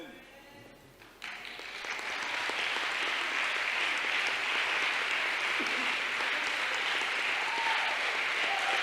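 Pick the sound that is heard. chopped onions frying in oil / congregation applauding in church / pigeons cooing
congregation applauding in church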